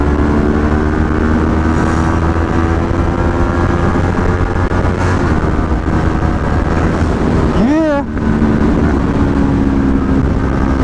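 A big bike motorcycle rides in sport mode, giving a loud, steady engine drone under heavy wind buffeting, with a quick rising rev near the end.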